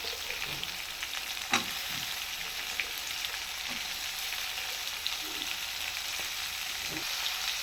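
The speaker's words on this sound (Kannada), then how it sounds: "ಸದ್ಯಕ್ಕೆ ಇಷ್ಟ ಸಾಕು, ಯಾಕಂದರೆ ಚೆಂದಾಗಿ ಫ್ರೈ ಆಗ್ತವೆ ಇವೆಲ್ಲ" Onions fry in a pan for a stir-fried vegetable dish, giving a constant soft, crackling sizzle with a few faint stirring clinks, quiet and uninterrupted.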